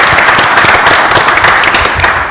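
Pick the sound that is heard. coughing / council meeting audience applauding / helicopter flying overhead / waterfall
council meeting audience applauding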